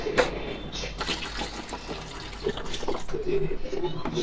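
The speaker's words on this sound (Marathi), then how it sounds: "तोंडावर पाणी मारून यायचं" Water splashed on a face splashes and trickles in short bursts, with a few faint background voices.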